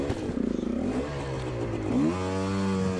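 GPX motorcycle engine in an Edge cross-country race at Spaunton Quarry, running slightly lean: a loud, close engine drone whose pitch sags and bogs, then climbs again as it revs.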